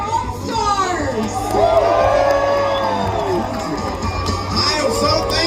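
A big crowd at a NASCAR All-Star race on a night track roars and cheers steadily throughout, with a presenter's voice speaking over the noise.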